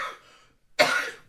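A single sharp, harsh cough bursts out close up after a brief pause, trailing off quickly.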